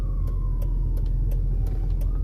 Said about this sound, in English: I hear a siren somewhere.